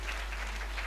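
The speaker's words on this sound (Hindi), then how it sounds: "एक बार तालियां बजाएं" Brief burst of audience applause at a Hindi comedy poetry show, steady clapping from a crowd heard at moderate distance with a constant low hum underneath.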